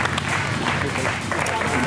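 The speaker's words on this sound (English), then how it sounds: "Deserved applause for the crazy horse." Applause from the audience at a poker final table fills the clip as a steady, dense wash of clapping, with a commentator talking over it.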